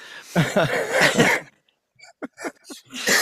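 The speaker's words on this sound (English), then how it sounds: "I shouldn't make you laugh because all you do is cough." Coughing from a person getting over a cold: a few short, sharp bursts come close together after a stretch of voiced, laughing sounds, with brief quiet gaps between them.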